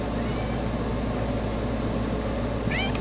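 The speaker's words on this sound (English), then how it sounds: "My little cat's trying to tell me something." A small cat gives one short, rising meow near the end, heard over a steady low hum and background noise in an indoor painting session.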